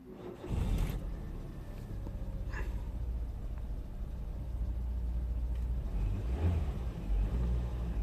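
A Citroen C4 1.4 petrol engine, which has a fault causing it to stall, idles steadily after being restarted, giving a continuous low rumble heard close up with no speech.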